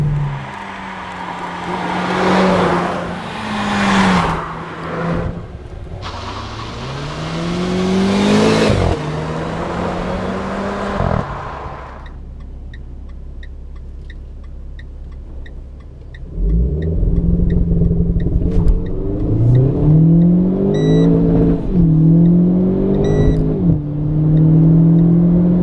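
A Renault Clio 4 RS Trophy 220 in race mode revs on launch control, then accelerates hard through several gears, with the engine pitch climbing and dropping at each shift, loud and close inside the cabin, followed by a brief quieter pause before more rising pulls.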